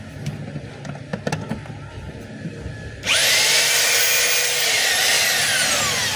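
A DeWalt D25032 rotary hammer drill switches on abruptly after a few seconds of quiet handling noises, then runs with a loud, steady, high-pitched motor whine until the end.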